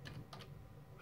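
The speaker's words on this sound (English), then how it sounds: "now we're gonna type the following command" Several quick, faint keystrokes on a computer keyboard as a command is typed, a short close burst of clicks in quiet surroundings.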